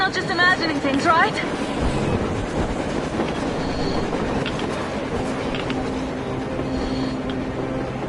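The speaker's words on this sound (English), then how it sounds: "A train! A damn train on the surface!" Train rolling on the surface in a snowy blizzard setting in the game Metro Exodus, steady rumble of rail cars with wheel squeal, heard under wind and voices talking.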